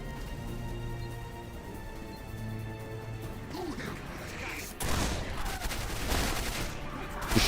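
Shotgun fire and combat in Quake 4, a dense, continuous game soundscape with tones and machinery hum that erupts into louder blasts and crashing impacts midway through.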